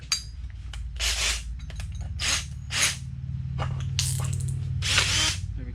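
A power drill whirs in repeated short bursts of a second or less each, loud and close, with brief pauses and small handling clicks between runs while a shelf is built.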